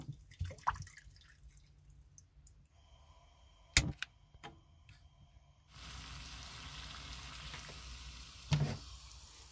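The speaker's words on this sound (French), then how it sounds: "le fait d'allumer le gaz, ça va réchauffer un peu la pièce" A gas stove burner in a van is lit to heat coffee on a cold morning: after scattered knocks and clicks, a steady, close hiss of the flame starts and carries on.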